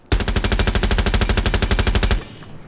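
A pistol in the video game Rainbow Six Siege fires in a loud, rapid burst of about twenty evenly spaced shots lasting around two seconds, then stops abruptly with a brief ringing tail.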